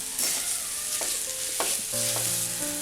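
A spoon scrapes and stirs mashed boiled potato into a pan of cooked tender jackfruit for cutlets, soft repeated scraping strokes with a light sizzle underneath, close and steady with no voices.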